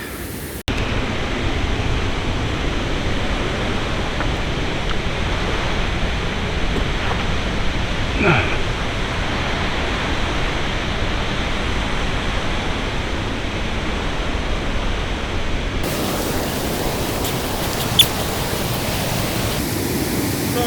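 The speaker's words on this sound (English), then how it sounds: "we finally got up to the Third Waterfall, which is kind of more of a rapid, a series of mini waterfalls" Rushing water of the Third Waterfall near Da Lat, a rapid made of a series of mini waterfalls, roars as a steady, dense broadband wash close by throughout, with no talk.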